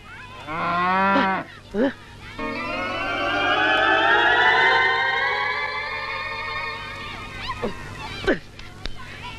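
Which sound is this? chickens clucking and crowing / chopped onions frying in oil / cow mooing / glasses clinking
cow mooing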